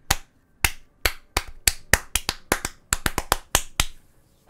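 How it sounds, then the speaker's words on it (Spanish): Hand claps ring out close and alone, about a dozen sharp, dry claps in a quick, uneven run. "mi despedida es con un aplauso"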